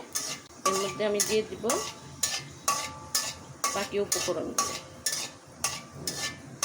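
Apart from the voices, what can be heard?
dried red chillies frying in hot soybean oil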